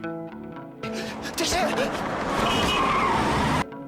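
Car rushing close past a person who slips and is nearly struck, a roaring swell of engine and road noise that builds and cuts off abruptly, with voices and dramatic effects layered over it.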